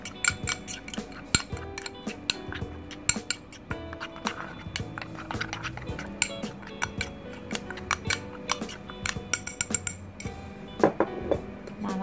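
Small ladyfish coated in seasoning are stirred and tossed in a bowl by hand, giving a steady run of close clinks, taps and soft scrapes against the bowl for the whole stretch, with no talking.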